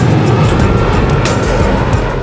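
Hot jet airliner engine blast at Hong Kong's Kai Tak airport, a loud continuous roaring rumble with a broad hiss, steady and close throughout.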